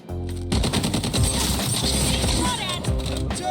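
Rapid automatic gunfire in the video game Highguard, loud bursts of rattling shots that run almost nonstop with brief gaps, layered over game sound effects.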